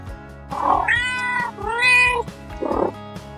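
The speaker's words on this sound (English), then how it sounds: "Cats say meow." A domestic cat meows twice in long, drawn-out, clear cries, with shorter trilling chirps before and after, close and loud against a steady low background.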